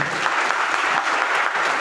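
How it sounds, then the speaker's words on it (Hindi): A crowd applauds Mr Narendra Prajapati at an AWPL health plan gathering: dense, steady clapping close by that fills the whole stretch without a break or voice. "एक बार तालियां होनी चाहिए मिस्टर नरेंद्र प्रजापति सर के"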